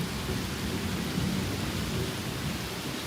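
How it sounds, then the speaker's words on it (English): Heavy rain falls in sheets during an intense storm downtown, with wind battering the buildings, making a dense, loud, continuous roar with no break. "Kind of raining in sheets."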